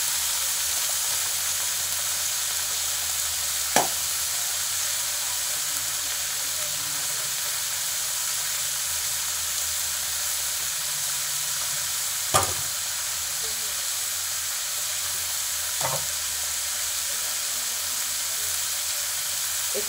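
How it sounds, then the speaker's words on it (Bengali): Kalai greens fry in a pan with a constant bright sizzle and hiss, broken by a few sharp clicks of the stirring spatula spread across the stretch. "এর সাথে নাড়বো চাড়বো, ভালো করে নেড়ে একটু লাল লাল ভাজা হবে,"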